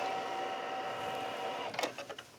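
Embroidery machine stitching a fabric pocket piece in the hoop for a sticky note pad holder, a steady close mechanical whir that halts near the end into a few brief clicks and knocks.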